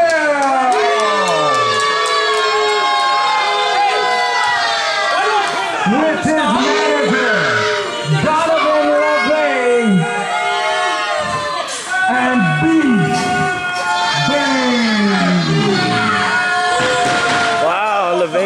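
A wrestling crowd at a TWA event roars, cheers and shouts continuously, with many loud overlapping voices, whistles and chants filling the hall throughout.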